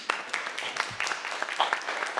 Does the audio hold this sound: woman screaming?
no